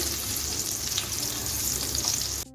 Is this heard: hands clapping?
no